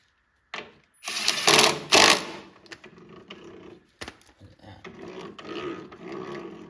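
Metal gears in the rear drive wheel of a 22-inch Toro Recycler Personal Pace mower mesh and clatter in short, uneven mechanical bursts, close up, with a louder rattling stretch early on and lighter clicking afterward.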